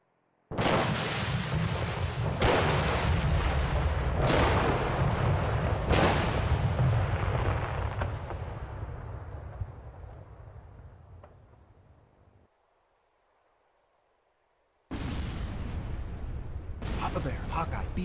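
Explosions in the ARMA 3 military video game with the Dragonfyre/JSRS sound mod: four heavy booming blasts in quick succession, each rolling into a long fading rumble, then a pause and two more loud blasts.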